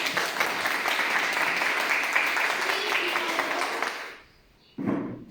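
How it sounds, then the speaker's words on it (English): A round of applause at a teen workshop in Mfuleni, steady, dense clapping from the audience for about four seconds that fades out, followed by a voice starting to speak. "let's give a round of applause"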